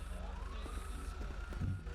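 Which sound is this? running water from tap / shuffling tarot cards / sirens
sirens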